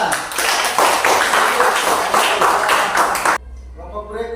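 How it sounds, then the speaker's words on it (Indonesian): A group claps hands together in dense, steady applause for a few seconds, then it stops abruptly and leaves quiet room tone. "Oke, tepuk tangan."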